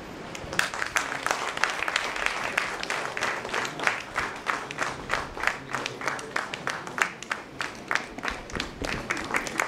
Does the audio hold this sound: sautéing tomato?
no